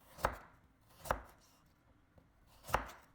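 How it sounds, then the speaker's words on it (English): A knife cuts a carrot into thin slices on a cutting board, giving three sharp, separate chops at an uneven pace, close and clear with quiet gaps and no talking. "prepare half a carrot, then cut into thin slices"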